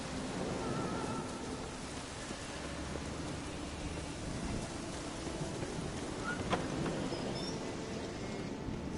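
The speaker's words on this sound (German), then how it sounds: "Was für ein Sturm." Steady rain with rumbling thunder in a stormy outdoor scene from the video game The Witcher III, a constant wash of rainfall with low rolls of thunder and a brief sharp crack partway through, fairly quiet and with no speech.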